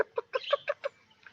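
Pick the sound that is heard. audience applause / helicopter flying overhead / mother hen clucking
mother hen clucking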